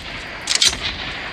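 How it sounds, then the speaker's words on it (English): Short burst of explosive grenade launcher fire in a video game, a quick cluster of sharp blasts near the middle of an otherwise steady background rumble. "Suppressing fire!"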